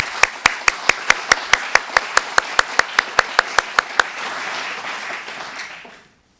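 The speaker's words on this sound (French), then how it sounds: "Je pense qu'on peut les applaudir tous très fort." Applause at a ceremony for companies receiving an ESR label: sharp, evenly spaced claps ring out for about four seconds, then blend into a softer wash of many hands that fades to silence.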